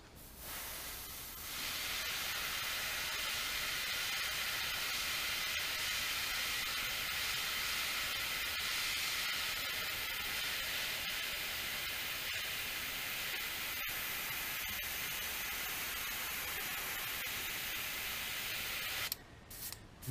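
An airbrush spraying paint onto a crankbait being painted in a rainbow trout pattern: a continuous close, even hiss runs almost uninterrupted for nearly twenty seconds, starting and stopping abruptly, with no talking over it.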